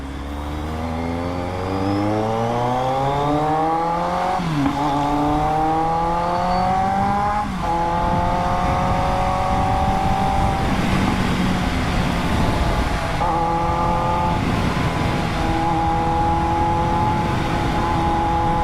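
A Yamaha NMAX motorcycle engine revs up close and loud. It climbs in pitch through repeated accelerations, with a steady roar between them.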